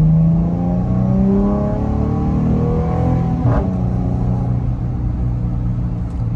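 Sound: car with 3.6L V6 Pentastar engine revving

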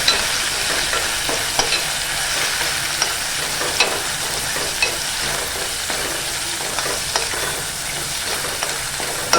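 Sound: ginger garlic paste sautéing in oil

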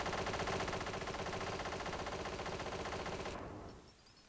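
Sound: machine gun shooting screen in video game Desktop Destroyer

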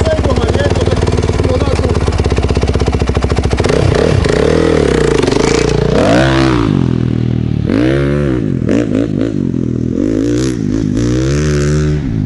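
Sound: Honda CRF 450 motorcycle revving and riding

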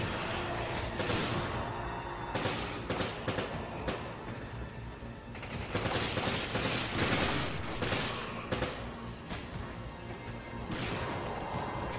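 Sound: grenade launcher and gunfire in video game Resident Evil 5

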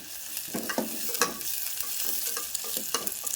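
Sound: onions frying in a pan

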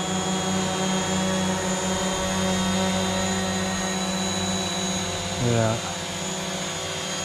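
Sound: drone flying and hovering

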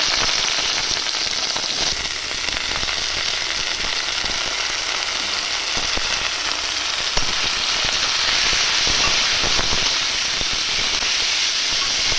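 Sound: frying a dried red chili in oil

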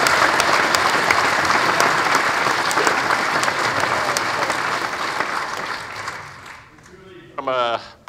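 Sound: audience applause for the governors

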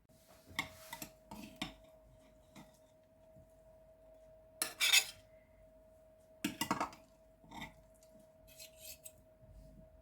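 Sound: cutlery cutting a frozen cauliflower casserole

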